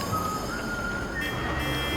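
A faint electronic tone from a reversing truck's warning beeper in Metal Gear Solid 4 rises slightly and steps up in pitch, sitting inside a dense, steady background rumble with no clear beeping rhythm.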